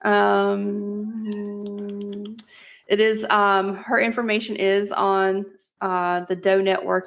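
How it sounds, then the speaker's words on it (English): A pet cat meows in the background, mixed under a person's steady, close speech. "Sorry for my cat meowing in the background."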